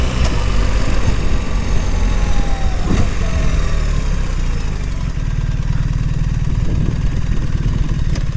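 A 2025 BMW R 1300 RT motorcycle engine runs loud and steady nearby, a continuous mechanical drone with slight shifts in pitch that may mark gear changes.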